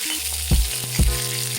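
Green and dried red chilies dropped into hot oil, crackling and sizzling in two sharp bursts over a steady background hiss.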